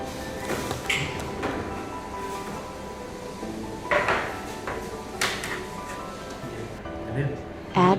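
A cookie tray comes out of the oven after baking flour cookies, with scattered metallic clatters, clinks and taps spread through the clip and a sharper clunk near the end, all under a person talking.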